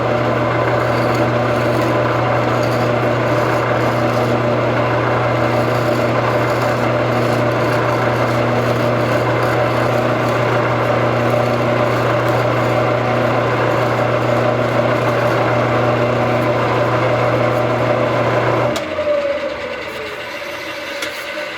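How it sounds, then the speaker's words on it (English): A power sander works the inside of a wooden piece with a loud, steady motor drone and whine that runs for about nineteen seconds, then cuts off, leaving quieter background noise. "we will take it over and sand the inside of it with the sander"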